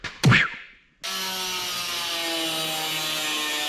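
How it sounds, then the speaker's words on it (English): A shop air compressor, freshly serviced with new oil, starts up after a short scraping thud and then runs steadily with a loud, even mechanical drone. "The air compressor is telling me thank you for finally servicing it and changing the oil"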